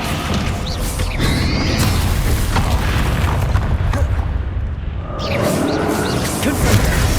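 Descendo spell impacts in the Hogwarts Legacy video game on PS5, heavy booming crashes and whooshes layered over a dense, loud game soundscape, with a voice calling spell names.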